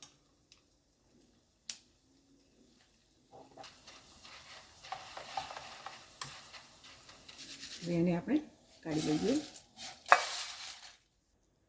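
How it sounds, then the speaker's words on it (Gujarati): Flattened rice (maize poha) frying in hot oil for a poha-and-puffed-rice chevdo, a steady crackling sizzle that starts after a quiet opening and swells in bursts toward the end while a person talks. "આ જ રીતે આપણે બધા જ પૌવાને તળી લઈએ"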